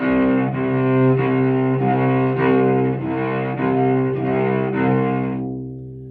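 A cello played with martelé bowing, long notes sounding in sequence with audible accented attacks between them, close and full, fading out at the end.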